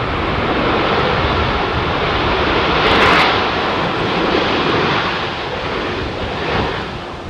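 A RwandAir Airbus A330 at London Heathrow roars past as a loud, continuous broadband jet rumble swelling slightly near the middle, with heavy wind buffeting on the microphone and no talk.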